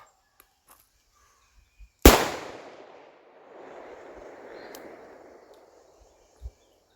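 A single loud, sharp shot from a snub-nosed revolver during a draw drill, followed by a fading echo and a faint trailing rumble, with quiet surroundings before and after.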